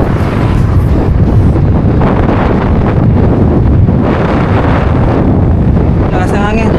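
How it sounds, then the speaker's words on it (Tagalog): Strong wind roars across the microphone during a road bike ride on a Trek Madone SL 6 Gen 8 (2024), a loud, continuous buffeting rush that holds steady throughout with no pause. "Lakas ang hangin."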